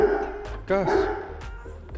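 A dog barks indoors in a mechanic's setting, giving a couple of short, close yips and barks, with someone talking over them.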